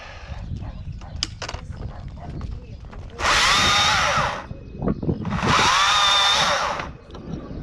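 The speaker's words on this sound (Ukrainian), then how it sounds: "Сьогодні ми тестимо в роботі ось таку пилку." A Stihl MSA 220 T cordless chainsaw revs hard twice in long bursts, cutting through wood, with clattering and background noise between the cuts.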